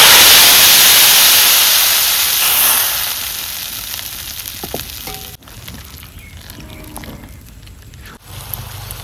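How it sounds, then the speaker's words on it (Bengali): Tempering of bay leaf, dried chilli, ginger paste and panch phoron poured into pumpkin khichuri, a loud close sizzle that fades after a few seconds into quieter bubbling and light clinks. "আমি আমার ফোড়নটা ঢেলে দিচ্ছি খিচুড়িতে"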